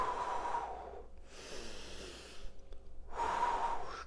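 Heavy breathing during a home workout exercise, with two loud, close breaths at the start and end and a quieter stretch between them.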